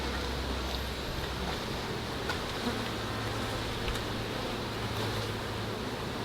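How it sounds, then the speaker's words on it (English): Dense, steady buzzing of many bees close by in an open urban beehive during an inspection, a continuous droning hum with no voices. "We got a couple of bees right here that are just now hatching."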